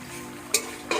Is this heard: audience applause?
no